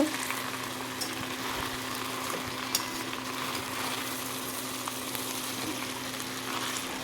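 Minced meat and figs cooking down with spices in oil give a steady, close frying sizzle with a few soft stirring scrapes, continuous and without voices.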